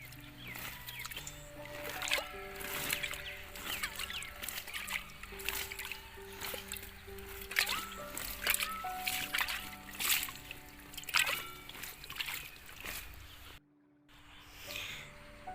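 Water splashes and trickles over vegetable vines in a garden, washing soil off them in steady, uneven bursts that stay close and fairly loud, with no talking.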